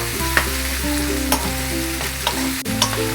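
Tomatoes frying in oil in a pan for chole masala, a steady sizzle with a few sharp stirring clinks over a low steady stove hum, no talk.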